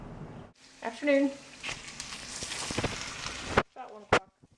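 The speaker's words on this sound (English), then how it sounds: "I'm just heating up some of that leftover chicken breast, roasted chicken. A little bit of butter, just sliced up in a pan." Sliced leftover roasted chicken breast sizzles in butter in a pan, a steady close frying hiss that cuts off abruptly, followed by a few clinks.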